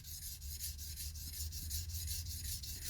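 A blade's bevel is worked diagonally across a polishing stone, giving a close, continuous rasping rub in regular back-and-forth strokes with no speech.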